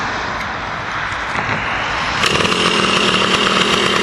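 A Suzuki DS80 dirt bike engine running with a loud, buzzing, steady drone close by. It grows louder and harsher partway through, and no one speaks.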